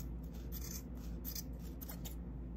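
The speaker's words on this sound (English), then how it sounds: "And then I snip." Scissors snipping through yarn loops during a craft project: a series of soft, crisp cuts in an irregular rhythm, close and quiet over a steady low hum, with no talking.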